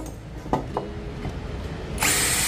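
A power tool briefly drills and grinds on the plastic of an electrical outlet box to open its drain hole. The sound is close, and a louder burst comes near the end.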